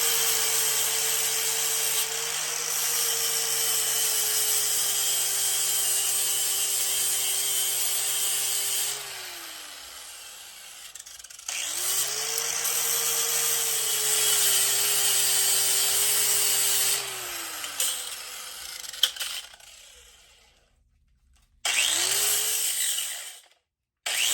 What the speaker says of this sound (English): I got to clean them areas up with the sander